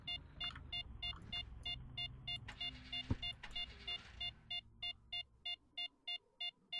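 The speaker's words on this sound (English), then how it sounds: "That beeping is very irritating." Rhythmic electronic beeping in S.T.A.L.K.E.R. Lost Alpha repeats steadily as short evenly spaced tones, loud and persistent, with a brief thump and some game noise partway through.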